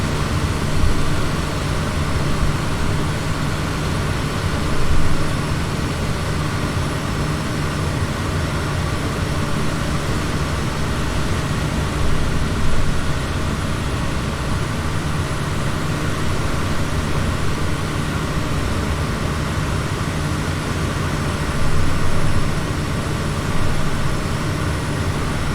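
Airliner engines hum steadily through the cabin during an RNAV approach into Gold Coast airport, a loud, constant low drone with a faint whine on top that barely changes as power is eased back.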